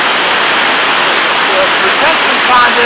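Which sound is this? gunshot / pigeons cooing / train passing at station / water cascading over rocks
water cascading over rocks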